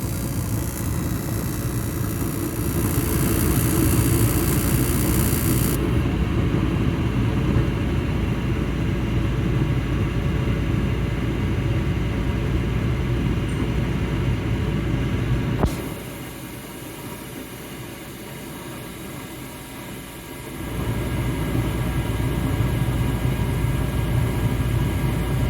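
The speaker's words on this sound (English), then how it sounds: "the thermostat calls for the fan and it starts as it should" A Mr. Heater Big Maxx heater fan runs after ignition as a steady low whir and rumble. Partway through it drops to a quieter hum for a few seconds, then returns at full strength.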